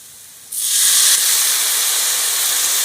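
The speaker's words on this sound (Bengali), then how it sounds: "এবার আমি অল্প করে জল দিয়ে দেবো" Water poured into a hot pan of chili powder mixture for an amla (Indian gooseberry) pickle sets off a sudden loud steam hiss that holds steady and strong to the end, with no talking.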